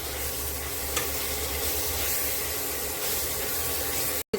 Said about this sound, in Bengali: আলু দুটো একটু সময় নাড়াচাড়া করে নেব।